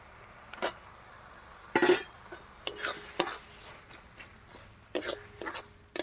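Boiled potatoes are stirred into oil-free cooked masala for ghugni: a few irregular, close scraping strokes of a spoon against the pan, separated by quiet pauses.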